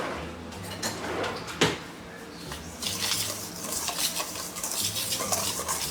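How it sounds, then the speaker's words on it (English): A whisk clatters against a bowl and stirs cornbread batter made with sugar and salt in a home kitchen. Close, busy scraping and tapping runs throughout, with one sharp knock near the start. "Let me grab a whisk."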